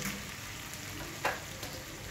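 Fried potatoes tumble into a frying fish-head bitter gourd curry, a steady close sizzle of oil with a brief louder hiss and clatter as the pieces land, then the frying settles back.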